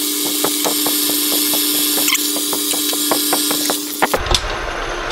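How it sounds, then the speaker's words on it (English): A center drill cuts into metal for a split collet on a machine, a steady tonal hum with regular rhythmic ticks for several seconds before the machine stops with a few clunks. "I'm going to start with a center drill so my bit has a good opportunity to get started straight."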